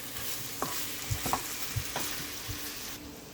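Ground beef for Jamaican-style tacos sizzles steadily in a pan, with occasional soft knocks and scrapes of a spoon stirring, heard up close and without talk.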